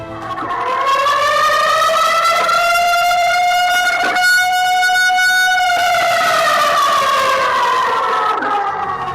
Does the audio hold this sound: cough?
no